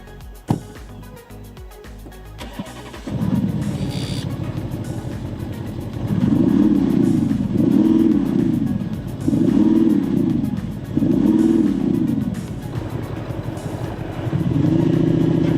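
A massive V8 in a 605 hp Audi RS6 Performance revs in five rising-and-falling surges, each swelling loud then dropping back, after a brief clatter and a lower idle at the start.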